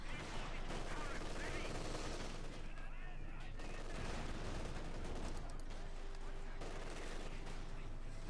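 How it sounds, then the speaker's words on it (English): Company of Heroes 2 battle audio with dense, overlapping gunfire and distant explosive thuds that may be mortar fire, continuous and moderately loud, under a commentator's voice. "Bit more mortar fire there."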